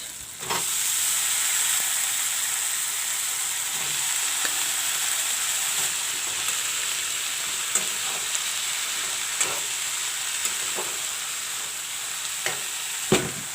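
Chopped cabbage frying with tomatoes in a pan for a cabbage curry gives a steady, close sizzle and hiss throughout, with occasional stirring scrapes and taps rising above it.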